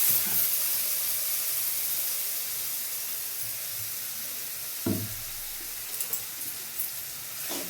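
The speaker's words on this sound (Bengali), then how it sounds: "মশলাটা আমার কষা চলছে" Spice paste frying in a pan for tomato rice, a continuous hiss and sizzle that softens over time, with a few brief bursts of stirring or spattering near the end.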